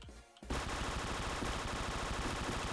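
A machine gun fires in a video game, an unbroken rapid loud burst that starts abruptly after a short quiet moment and runs to the end.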